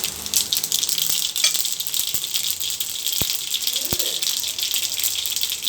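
Cumin, mustard seeds and dried red chillies sizzle in hot oil for tomato thokku, a steady bright hiss broken by scattered sharp pops and crackles, with a voice speaking softly under it.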